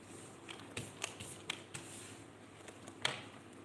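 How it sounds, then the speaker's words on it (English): Tarot cards being shuffled by hand during a live reading, a series of sharp, quiet riffles and taps at uneven intervals, close but faint, with no talking. "Let's shuffle the cards and see what comes out"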